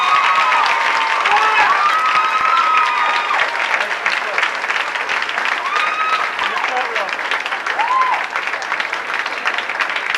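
Loud, sustained applause from a cabaret audience at a 1985 variety show, thanking Mrs. McLean, fills the whole stretch with steady clapping and a few faint whistles or calls mixed in.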